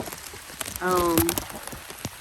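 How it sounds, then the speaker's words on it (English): Rain falls steadily on a flooding garden yard, a close, continuous patter, briefly overlapped by a short tonal sound midway. "We have been getting rain since last night."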